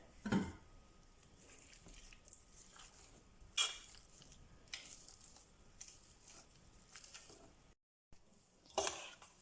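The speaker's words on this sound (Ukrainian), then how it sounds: "Картопля зварена, вкидаємо вершкове масло і товчемо до стану пюре" Boiled potatoes being mashed with butter into a purée, giving soft irregular squishing and patting thuds with a few sharp clinks of the masher against a pot, close and fairly quiet, with no talking.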